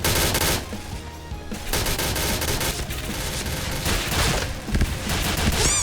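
Rapid bursts from the Pindad SS3 rifle in the shooter game Point Blank, loud, repeated automatic fire with short pauses between volleys and sharp impacts near the end.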